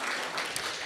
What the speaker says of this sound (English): Give William a round of applause.